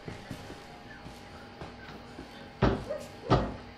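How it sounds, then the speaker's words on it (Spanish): Heavy banging knocks close by in the video game Resident Evil 7: a few softer thuds early on, then two loud, booming impacts near the end, with no other sound between them. "Se escuchan muy cerca los golpes."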